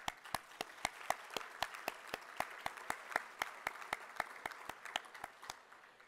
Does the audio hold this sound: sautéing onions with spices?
no